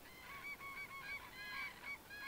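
Common cranes trumpet over an open field in autumn, with several overlapping calls from a flock rising and falling through steady background noise, at moderate distance.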